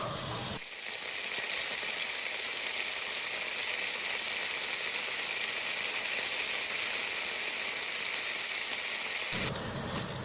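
Lamb shanks sear in a very hot stainless steel pan with a loud, steady sizzle that holds evenly throughout, alone and close, with no talk.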